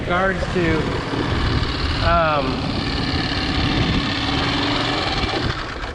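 A small 2.5 horsepower outboard motor on a 14-foot aluminum boat, droning steadily and close at a high buzzing pitch while someone talks over it throughout.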